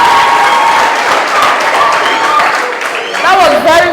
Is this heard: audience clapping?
yes